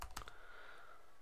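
A brief, faint patter of computer keyboard keys as a user name is typed in, a few quiet clicks at the start that fade into a soft steady background tone.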